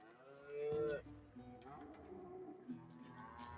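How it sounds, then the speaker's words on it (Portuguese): An ox lows in the Western video game Call of Juarez: Gunslinger, a single drawn-out moo with a harmonic tone, followed by softer rumbling ambience and a faint second bellow. "Eu acho que isso é um boi."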